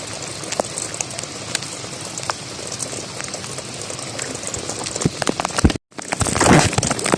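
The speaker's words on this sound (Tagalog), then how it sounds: "Sobrang lakas ng ulan." Heavy rain pours down steadily during a fishing trip, a dense, loud hiss with scattered close drops hitting nearby surfaces, briefly cut off before resuming.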